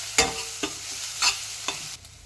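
Ginger garlic paste fries in oil for a Godavari-style dried fish and brinjal curry, with a steady low sizzle broken by four short scraping stirs of a spoon in the pan.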